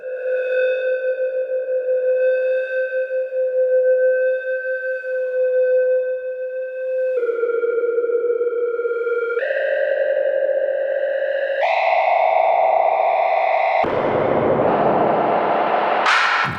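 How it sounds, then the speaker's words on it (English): Make Noise Erbe-Verb reverb on a modular synth, its size stepped by sample and hold: sustained tonal drones jump pitch in abrupt steps, then break into noisy, cavernous crashes and bangs toward the end, loud and unbroken with no talk. "Creates these crashes and kind of cavernous cracks and bangs into the reverb when you actually smack this stepped sample and hold right into the size."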